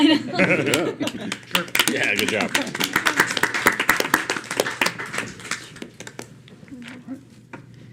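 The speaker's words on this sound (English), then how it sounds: "Feels like we should clap or something." Scattered clapping breaks out in a city council chamber after a pilot project is announced, a burst of sharp, uneven claps under chatter and a brief remark, thinning out toward the end.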